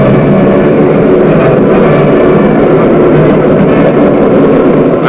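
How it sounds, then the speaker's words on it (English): A coal plough shears into a coal face underground, a loud, dense, continuous grinding rumble that holds steady throughout with no pauses or voices. "the plough was just on the way up, grunting and groaning as it sheared into the coal."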